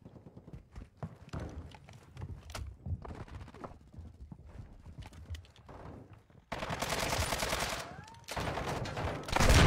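Rapid bursts of automatic gunfire from a first-person shooter game, with a muffled, tapping stretch of shots giving way to loud, dense sustained firing near the end, close and prominent.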